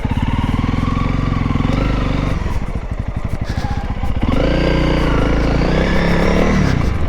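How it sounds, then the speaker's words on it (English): A Honda CRF 300 dual-sport motorcycle with a 300cc single-cylinder engine, close and steady, its low throbbing exhaust note idling and revving as the ride begins, with some mechanical clatter. "Does not sound very impressive, but this is only 300cc motorcycle."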